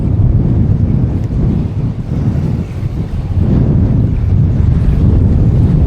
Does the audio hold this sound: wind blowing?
yes